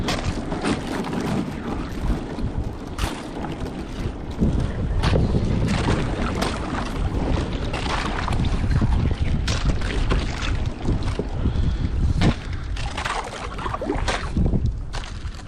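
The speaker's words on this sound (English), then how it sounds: "You know it's not good fishing conditions when I gotta talk louder because we're going over ice." A kayak pushes across a frozen pond, its hull grinding and crunching through ice in a loud, continuous scraping rumble with sharp cracks scattered through it and no voices.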